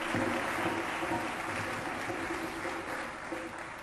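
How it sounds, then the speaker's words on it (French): Crowd applause fills the whole stretch, a steady wash of many hands clapping at an evening stage event, moderately loud and even, with no clear voice over it. "Alors accompagnez-le avec des applaudissements."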